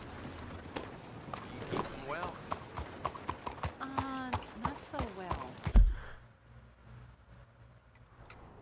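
Horse hooves clip-clop steadily while riding in the video game Red Dead Redemption 2, a regular near walking rhythm heard under continuous talk before fading out.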